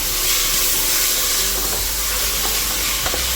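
Two Bangalore tomatoes fry in hot oil for homemade chicken biryani, a loud, continuous sizzle and hiss with occasional faint stirring clicks and no talking.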